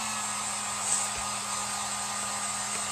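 Hair dryer blowing on fresh green and pink paint on a polka-dot craft board, a steady close whooshing hum that holds level for a few seconds with no voices.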